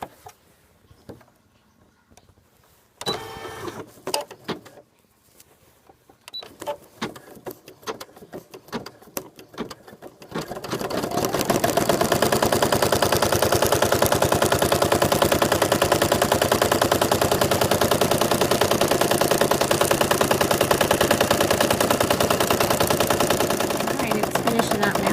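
A single needle embroidery machine stitches an item floated on the hoop, starting with scattered clicks and handling noise before settling into a loud, steady, rapid mechanical chatter that runs continuously to the end.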